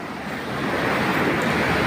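Ocean waves wash along a seaside shore in a steady, rushing surge that swells slightly louder over a couple of seconds, with no voices.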